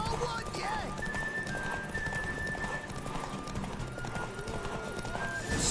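Horse hooves galloping and a neigh in The Witcher 3 video game, under steady game music and ambience, with a voice talking over it.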